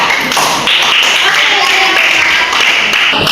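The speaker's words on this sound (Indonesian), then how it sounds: "Oke, tepuk tangan kepada mereka." A group claps together in steady applause, a dense patter of hands that fills the whole moment at close range.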